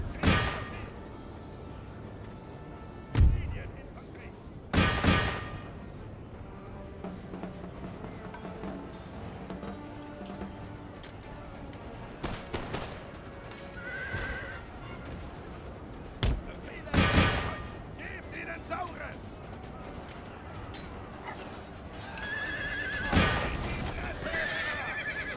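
Musket volleys crack out in an Empire: Total War battle, several sharp loud bursts spread across a low rumbling battlefield din, with scattered quieter shots in between.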